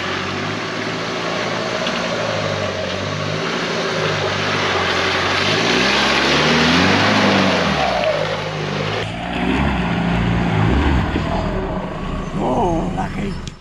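A four-wheel-drive vehicle's engine revs hard through a boggy track in Pennsylvania State Forest, NSW, rising and falling in pitch as it surges, loud and close, with people talking over it.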